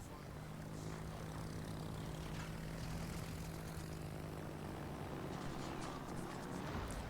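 Propeller torpedo planes launch from the aircraft carrier Essex in a naval video game, giving a steady, droning engine hum with a low tonal whine that holds for the whole stretch over a constant background wash.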